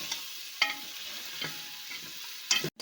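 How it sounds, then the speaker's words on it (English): Meat, potato and fenugreek frying in a pan while being stirred, a soft steady sizzle broken by a few scraping stir strokes, close and fairly quiet, with no talking. "During frying you should have to shuffle all the mixture and give it rest"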